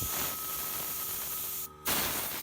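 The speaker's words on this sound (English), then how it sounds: "we're going to go through and blow out all these passages and take the jets out and everything, blow through all them." Compressed air blasts through the jets and passages of a disassembled Honda VTX 1300 motorcycle carburetor, a loud steady hiss that cuts out briefly, then bursts again before stopping.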